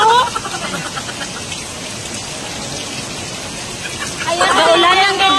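Heavy rain falling in a steady dense hiss, loud and close, with voices talking faintly beneath it and a stronger vocal burst near the end.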